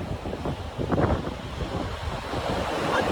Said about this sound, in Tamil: பீச்சில் ஜில்லுன்னு காத்து